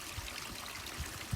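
A pond filter's return pipe pushes about 9,000 litres an hour back into the pond, making a steady, continuous rush of flowing water with a few soft splashes near the end.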